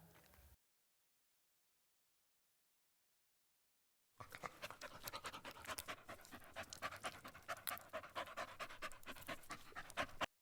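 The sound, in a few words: large dog panting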